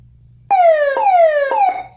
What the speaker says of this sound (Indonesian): long press ya tombol menu, maka akan ada 3 mode alarm atau apa namanya tuh kayak ambulan begitu ya